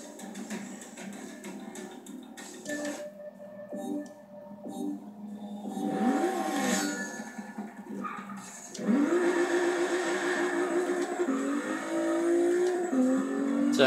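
A Lexus IS 350 F-Sport engine in a Forza 6 drift battle revs and rises in pitch repeatedly, with shifting whines and squealing tires, loud and continuous without talk.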